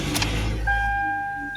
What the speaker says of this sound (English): and it can equally start the car